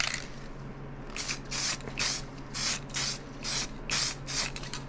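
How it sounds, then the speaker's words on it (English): Bursts of high build primer from a spray gun, about eight close hissing passes in a steady rhythm, each lasting under half a second, with no voices. "the idea here is once I get this sprayed on"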